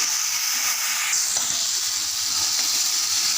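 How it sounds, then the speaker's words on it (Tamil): Chopped tomato sautéing in a pan with a sprinkle of salt, giving a steady, even sizzling hiss throughout with no talking. "இதுவும் நல்லா பச்சை வாசம் போக வதங்கட்டும்."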